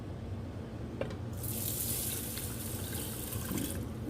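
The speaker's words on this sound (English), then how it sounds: "We're going to put our 2 cups of water." Water poured into a pot holding a cup of uncooked rice for Spanish rice, a steady close rushing stream that starts just after a brief knock and runs on without a break.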